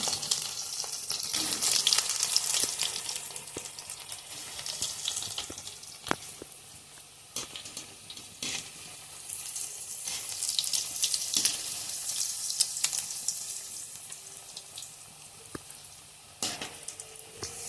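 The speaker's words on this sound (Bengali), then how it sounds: "দেখুন গরম তেলে এবার আমি একটা একটা করে ছেড়ে দেবো। এবার এটাকে লাল লাল করে ভেজে নেব।" Lote fish chops dropped one by one into hot oil over low-to-medium flame crackle and sizzle steadily, with the hiss swelling and easing and sharp pops and spatters now and then.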